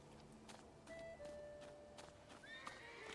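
A horse in The Thaumaturge game gives a drawn-out neigh over faint clip-clop hoof steps, fairly quiet and a little distant, with a few sharp knocks and a higher whinny near the end.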